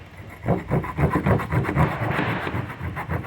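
Quick back-and-forth strokes of a small knife saw cutting into wood, a rasping rhythm of about three strokes per second, close and steady.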